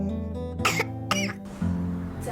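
A child coughing at home, two sharp coughs close by over a low background hum, with no talking.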